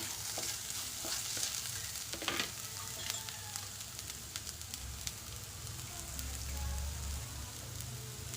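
Green chillies sizzling and frying in a pan with oil while being stirred, a continuous crackling hiss with occasional scraping of the spoon, steady and close.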